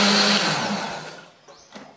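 Kitchen blender grinding wet spice paste of curly red chili, turmeric, shallots, garlic and candlenut, a loud steady whir that fades and slows over two seconds before a brief clatter near the end.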